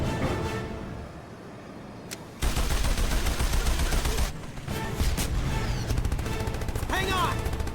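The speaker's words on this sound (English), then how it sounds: "Dax, get on the gun." Rapid gunfire from a mounted gun turret in the Jak and Daxter: The Lost Frontier video game, bursts of shots over game music and effects, with some voices talking.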